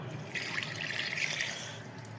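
Water pouring and splashing steadily from a mug onto plants for a couple of seconds, close by, with a soft trickling hiss and no talking.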